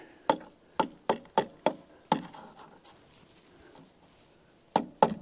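A screwdriver taps a cable railing fitting in: a quick run of five sharp metallic knocks, a pause with faint rattling, then a few more close, loud taps.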